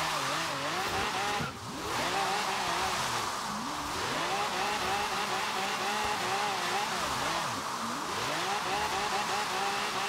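A Ram Runner truck drifts in Forza Horizon 3, its engine revving and falling in repeated sweeps while tires squeal through long slides, with faint talk in the background.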